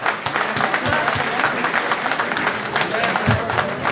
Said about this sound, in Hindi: ताहिर इकबाल साहब के लिए भरपूर तालियां जी।